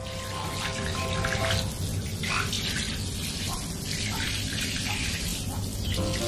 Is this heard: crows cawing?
no